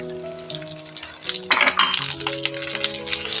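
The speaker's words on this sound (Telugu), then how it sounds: "జీలకర్ర ఇవన్నీ వేసి బాగా వేయించేసేసుకొని ఇప్పుడు మనం ఎండు మిరపకాయలు కూడా వేసేస్తున్నామండి" Cumin seeds and dried red chillies fry in hot oil in a pan, a steady crackling sizzle with metallic stirring scrapes that swell louder midway, with no voices.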